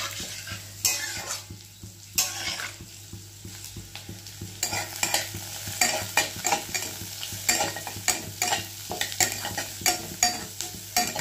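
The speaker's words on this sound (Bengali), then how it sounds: "এটা হয়ে গেছে আমার, আমি একটু নাড়িয়ে দেবো।" Vegetable stew being stirred in a pan with onion and julienned ginger, a spoon scraping and clattering in irregular strokes over a steady background sizzle, fairly close and loud with no talking.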